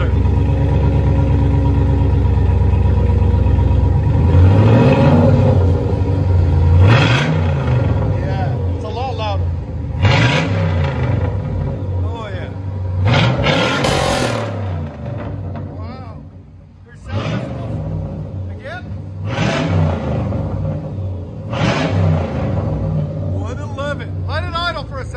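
A 5.7L V8 Chevy Camaro Z/28 with aftermarket Flowmaster or Magnaflow exhaust idles with a deep rumble, then revs several times in rising and falling bursts, with people talking over it.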